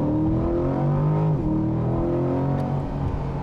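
A Chevrolet C8 Corvette accelerates hard near a rural gas station. Its engine roars loud and close in a steady rising pull, with one brief dip partway through, as if shifting gear.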